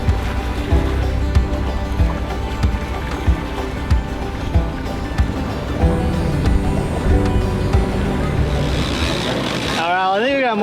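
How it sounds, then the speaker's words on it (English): A sailboat motors across calm sea under engine power, a steady low drone with water rushing along the hull, heard continuously and fairly close. "There's not a lot of wind today and we are motoring"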